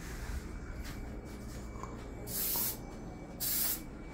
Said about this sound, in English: We sprayed our non-stick.